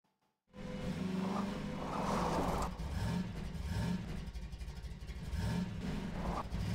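Vehicle driving in the video game Half-Life 2 at high speed, a steady engine drone with rising and falling revs that starts abruptly and continues loud throughout, with no talking.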